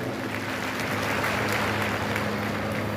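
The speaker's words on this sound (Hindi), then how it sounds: "एक बार जोरदार ताली बजा कर" Applause from a large audience welcoming a Punjab government cabinet minister at a religious gathering, a dense steady wash of clapping that holds evenly for the whole stretch over a low electrical hum.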